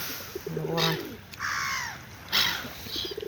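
Ravens caw while being fed, several loud, close, harsh calls in a row, one after another, with a little talk in the background.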